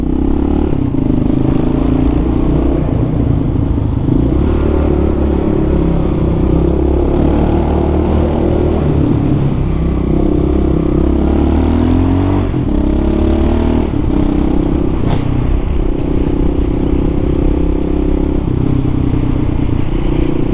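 A motorcycle engine that previously idled poorly now idles steadily and loudly for a long stretch, a constant low rumble with slight rises in revs and no talking.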